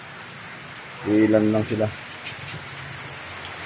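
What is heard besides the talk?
heavy rain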